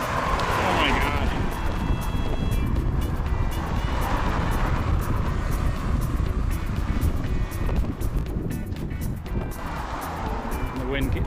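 Strong coastal wind buffets the microphone on a seaside walk along the Dorset coast, a steady loud roar lasting throughout, with muffled voices underneath.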